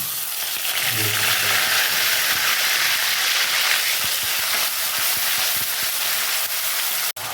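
Bay leaves and onion frying in hot oil in a pan for an echor (jackfruit) curry, a steady broadband sizzle with faint stirring clinks, close and continuous without pause.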